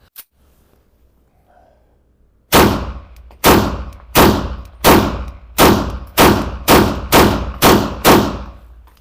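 A Beretta 98 pistol with tactical grips fires nine sharp shots at a shooting range at a steady, unhurried pace, each loud crack trailing off in a short echo after a few quiet seconds.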